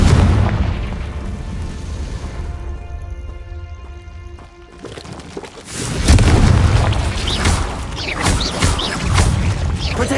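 Loud booming fire-spell explosions from the Confringo curse in Hogwarts Legacy on PS5, a deep rumbling blast building after a quieter stretch, then repeated heavy bursts with crackling debris and no talk.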